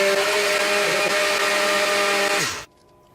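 A kitchen blender whirring steadily as it purees cucumber sauce, loud and close, then cutting off abruptly into near silence.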